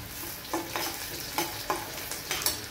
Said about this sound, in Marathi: कांदा आपला चांगला परतून झाला आहे